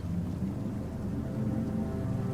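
Thunder rumbling low beneath steady rainfall as ambient background for a tabletop D&D session, a continuous dull roar with no distinct strikes and no voices.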